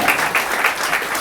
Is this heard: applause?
yes